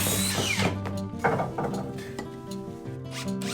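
A power drill drives 75mm screws into wooden ceiling hangers during a ceiling frame renovation, sounding as loud whirring bursts with ratcheting mechanical grind, close and alone, with brief pauses between runs.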